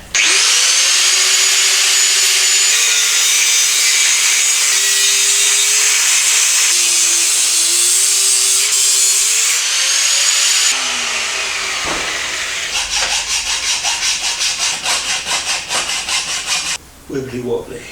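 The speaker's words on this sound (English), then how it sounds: "So now we can take the angle grinder to the top tube and get rid of that." Angle grinder slicing through the top tube of a Kawasaki motorcycle frame during a drop-seat bobber build, a loud continuous high-pitched whine and grinding scream that shifts pitch, then breaks into rapid pulsing cuts near the end.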